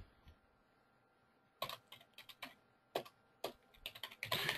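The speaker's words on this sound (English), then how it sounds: "when I start typing in a phone number" A phone number is typed on a computer keyboard as keys are pressed in quick irregular clusters, close and crisp, with soft pauses between bursts of clicks.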